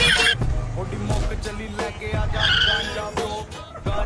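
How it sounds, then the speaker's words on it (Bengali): Loud aftermarket exhaust on a big car roars and crackles steadily, close by, with people talking over it. "এটা হচ্ছে হলারের আওয়াজ"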